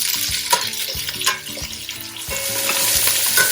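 Carrots and onions pan-fry in a skillet with a loud steady sizzle and crackle, punctuated by a few scraping stirs.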